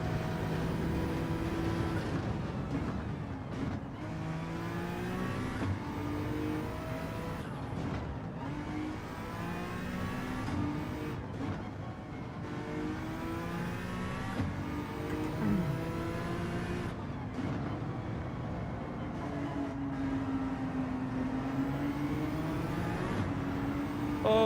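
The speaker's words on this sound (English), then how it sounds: "Now you can hear all the wonderful sounds of my car." A race car engine in a racing video game revs continuously, its pitch repeatedly climbing and dropping through gear changes, steady and prominent with no talking.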